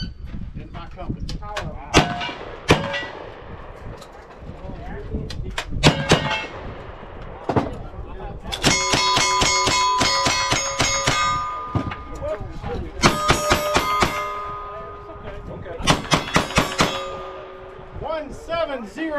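A shooter fires at a shooting competition, a string of sharp cracks with ringing metallic clangs from struck steel targets, coming in rapid bursts that echo, with voices talking between them.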